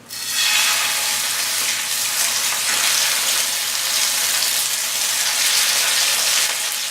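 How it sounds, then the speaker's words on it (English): Loud, continuous sizzling of chicken frying in a hot cast iron pan, a steady hiss with no talking. "So it's gonna sizzle."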